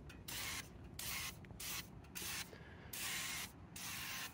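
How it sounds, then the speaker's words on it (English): Silicone spray hisses from an aerosol can onto the parts of a snow blower, including the chute and augers, in six close bursts of about half a second each, separated by short pauses. "I'm just gonna spray everything"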